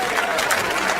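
A comedy show audience gives a brief burst of dense, steady applause, close and loud for about a second.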